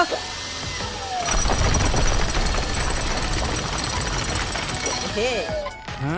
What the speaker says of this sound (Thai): นายจะทำลายปูนซีเมนต์โดยใช้สว่านเหรอ